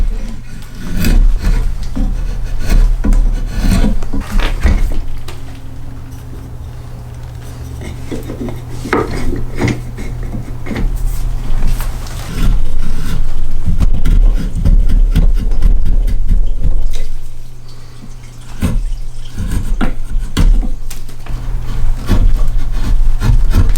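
A draw knife and push knife shave a green wood handle for a Mora Classic knife, giving loud, close scraping cuts one after another with woody knocks and rasps between them.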